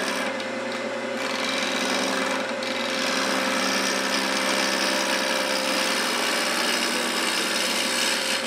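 A wood lathe spins an off-center, non-round workpiece as a gouge cuts into it, producing a loud, steady motor hum under a continuous rasping scrape of the tool against the wood.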